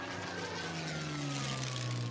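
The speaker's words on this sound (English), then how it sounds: "the sound of a plane filled the sky." A steady droning propeller plane engine hums continuously at moderate volume, its pitch gliding slowly downward as it passes overhead.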